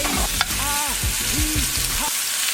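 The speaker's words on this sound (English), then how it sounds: "I'm gonna let that sear for about a minute on each side" Food searing in a hot pan gives a steady, loud sizzle from start to finish, with brief voiced sounds rising over the frying noise now and then.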